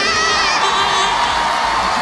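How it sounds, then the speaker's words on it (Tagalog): Studio audience at a noontime variety show cheering and shouting, a loud, continuous crowd roar with whoops and children's shrieks filling the whole stretch. "Palakpakan na may kasama sigawan!"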